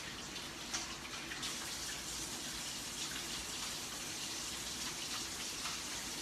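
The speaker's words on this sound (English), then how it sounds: "Wash my hands really thoroughly." Hands are scrubbed under a running kitchen tap during food prep, giving a steady, close gush of water that splashes continuously for several seconds with no talk.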